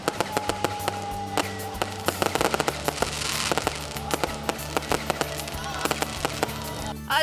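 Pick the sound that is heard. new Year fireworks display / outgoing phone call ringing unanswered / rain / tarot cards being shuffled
new Year fireworks display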